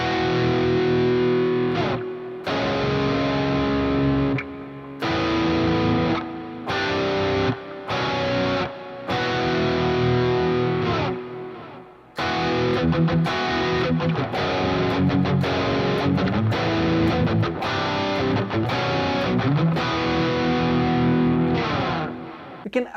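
Heavily distorted electric guitar add9 chords played loud and dense, with choppy rhythmic strums, brief pauses, then a faster driving stretch.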